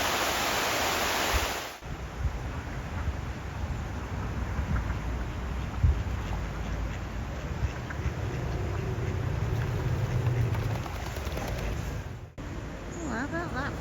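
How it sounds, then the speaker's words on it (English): Water pours over a river weir, a continuous broad rushing roar heard close by, steady throughout with minor shifts in intensity, under occasional faint outdoor sounds. "I could hear water."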